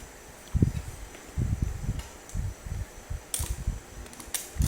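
A repaired electric fan runs after being plugged in, giving a low, uneven whooshing rumble in gusty bursts, with a few sharp clicks and handling knocks.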